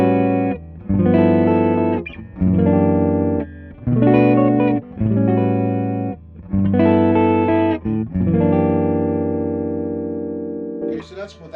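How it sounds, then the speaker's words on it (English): Clean electric guitar notes and chords ring out through a tube amp with no effects, played in phrases with short gaps, sustained and fairly loud with no distortion. "just to give you an idea how the amp sounds clean with no effects"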